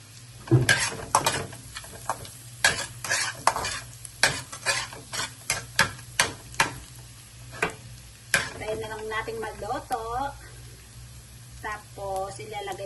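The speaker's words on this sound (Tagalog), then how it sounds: "ba maingay yung ating sandok" A metal ladle clatters and scrapes against a pan in quick irregular strikes over steady sizzling while cooking garlic butter crab, with a voice speaking briefly near the end.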